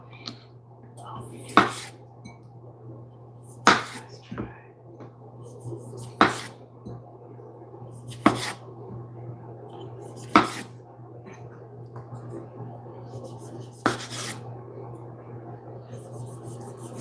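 Food is chopped on a board at home for a simple dinner. About seven separate knife strikes land every two seconds or so over a steady low hum in a quiet kitchen.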